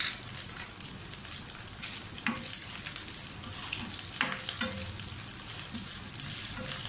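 Green chilies sauté in a hot pan with a steady close sizzle and frying hiss, punctuated by a few sharp stirring scrapes, no talking.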